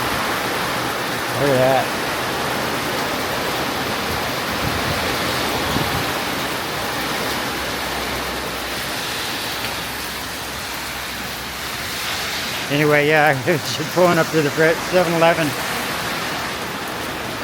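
Heavy rain pours steadily in Thailand while a cyclist shelters under a 7-Eleven overhang in Trang, a dense continuous wash of water close by, with someone talking over it near the start and end.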